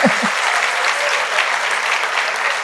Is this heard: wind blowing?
no